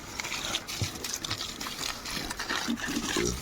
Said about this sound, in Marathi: हे बघा मी जिन्यावर पाणी मारते